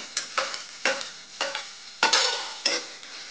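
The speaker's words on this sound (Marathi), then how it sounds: "टमाटा पण थोडा परतून घेऊ" Chopped tomato and onions sautéing in a pan, stirred in six or so distinct scraping strokes over a soft sizzle, close and clear with no talk.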